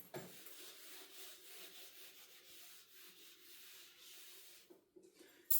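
Steady scrubbing strokes of an eraser wiping writing off a board, a continuous soft rubbing hiss heard close and alone with no talking.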